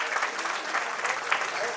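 Brief, lively applause from an audience at a school event honouring a teacher, many hands clapping steadily and close for under two seconds.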